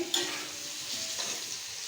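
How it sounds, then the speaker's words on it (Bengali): Potatoes frying in a pan for a chickpea and paneer curry, a steady close sizzle with soft stirring scrapes, unbroken and without talk. "এখানে আলুটা ভাজা করতে আসি"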